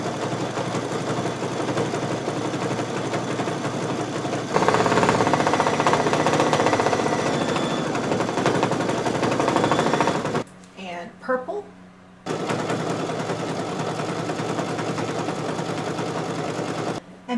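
An embroidery machine stitches a small thread spool design onto split-hooped quilt-shop fabric, a steady rapid mechanical chatter that runs on and off, stopping briefly partway through before resuming.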